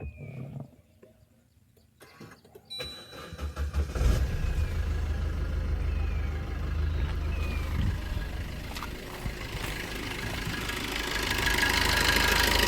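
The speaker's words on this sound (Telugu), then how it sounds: "ఇంజన్ స్టార్ట్ చేసి చూపిస్తాను మీకు కూడా." A 2014 Maruti Suzuki Ciaz ZDi diesel car engine turns over after a quiet start, then settles into a low, steady idle with a rough knocking rumble, close by.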